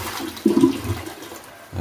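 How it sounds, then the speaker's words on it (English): A household toilet with a siphon flush mechanism flushes nearby in a short burst of rushing water that swells and then drains away, with no speech. "But will it flush again?"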